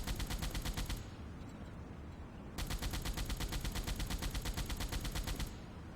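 Deck gun fire in the submarine video game Silent Hunter 5, heard as a steady run of rapid, evenly spaced booming reports under a constant low rumble, pausing once before resuming.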